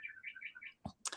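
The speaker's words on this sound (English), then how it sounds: "I'm sorry you're hearing my little bird clock in the back." A small bird clock chirps indoors, a string of rapid, warbling tweets followed by a couple of sharper chirps, quiet and a little distant in the room.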